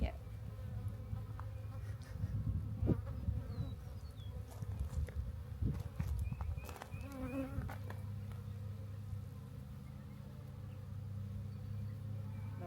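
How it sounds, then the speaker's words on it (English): Bees buzz close by in a dense, droning hum, rising and falling as they pass, with soft rustling and a few faint voices underneath. "Look at all the bees."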